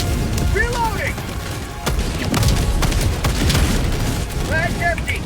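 Heavy gunfire and explosive bursts in the co-op shooter Helldivers 2, coming in loud clustered volleys with booming impacts and mechanical clatter, with a voice talking over parts of the battle.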